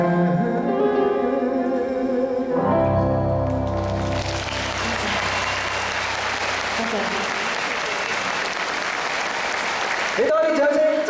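Audience applause after a song at a concert, a broad burst of clapping rising from the crowd as music fades, continuing for several seconds with a voice over it near the end.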